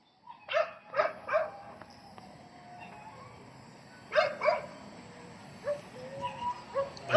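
Several dogs bark in scattered bursts at a dog impound area, some near and some farther off, with pauses between, over a faint background hum.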